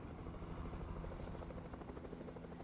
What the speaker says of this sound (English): the helicopter's kind of sus right now